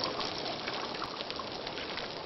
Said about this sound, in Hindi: बारिश का पानी भर के रखा बोतल में आवाज आ रही आपको